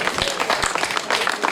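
Crowd at the final podium of the 2019 Tour des Landes cycling race in Aire applauds cyclist Pierre Créma, a dense, steady wash of clapping held loud and close for a brief moment.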